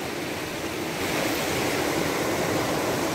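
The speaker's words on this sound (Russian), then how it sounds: "Вот, вброд через реку." A vehicle fords a river in a mountain gorge. Rushing, splashing water gives a broad, continuous wash that swells louder after the first second, with no talk.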